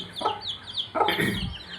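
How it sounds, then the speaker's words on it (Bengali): Young chickens clucking and peeping close by, several short bursts of chirps and clucks with brief gaps between them. "আমাদের মুরগির বাচ্চাগুলো আপনারা দেখতে পাচ্ছেন কত সুন্দর আমাদের মুরগির বাচ্চাগুলো আছে"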